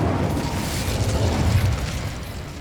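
An Incendio fire spell cast in Hogwarts Legacy on PS5 gives a sustained roaring, crackling burst of flame that stays loud and dense for a couple of seconds before easing slightly, with no voices over it.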